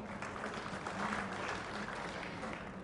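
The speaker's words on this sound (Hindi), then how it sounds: "देवियों और सज्जनों, सबका कृपया तालियों से स्वागत करें।" An audience at a government knowledge-exchange inauguration applauds to welcome guests onto the stage, a steady, fairly faint wash of clapping heard from a distance in a large hall.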